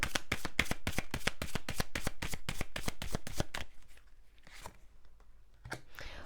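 Tarot cards riffled and shuffled by hand in a quick, steady run of sharp flutters for several seconds, then quieter handling of single cards being drawn and laid down.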